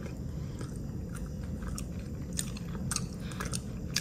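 Cooked silkworm pupae are chewed close up, with repeated crisp crunches and bites popping over a steady, wet mastication sound.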